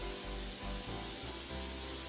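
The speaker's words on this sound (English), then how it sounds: "and some cooking spray" Cooking spray hisses from an aerosol can onto shiny-side-up aluminum foil, a few short close bursts of spray in a row with no one talking.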